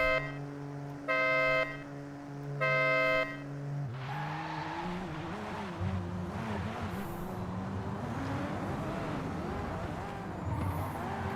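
Two loud horn-like tones sound first, then a Mark IV Supra with full-lock steering drifts through a racing video game on an e-brake entry, its engine revving continuously with wavering pitch and tire noise.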